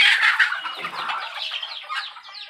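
Free-range country chickens clucking close by near a rooftop garden, a busy overlapping chorus of hens with quick cackles and soft murmurs, no talk.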